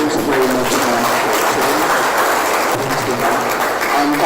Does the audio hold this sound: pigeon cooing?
no